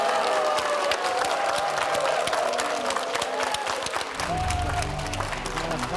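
Audience applause welcomes the district head at a town hall meeting in Gwangju's Buk district, a dense sustained patter of many hands filling the hall, with a low hum entering near the end.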